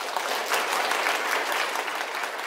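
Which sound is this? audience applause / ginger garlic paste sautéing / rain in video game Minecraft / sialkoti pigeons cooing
audience applause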